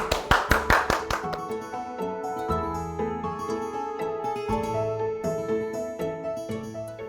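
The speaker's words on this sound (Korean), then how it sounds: "박수!" A short burst of hand clapping rings out at the start, several sharp claps at the end of a bibimbap cooking class, then gives way to steady background music.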